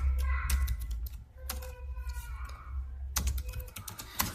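A test case being typed into Word on a computer keyboard: close, rapid bursts of key clicks with short pauses between runs.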